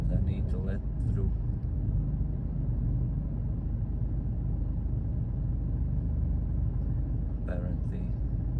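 Cars passing a truck on a sunny road, a steady low engine and tyre rumble heard from inside the cab, with a couple of brief sharper sounds near the start and near the end.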